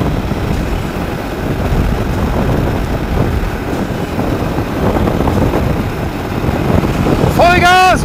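BMW motorcycle engine riding at speed, a steady loud roar with wind rush throughout and a brief rising whine near the end.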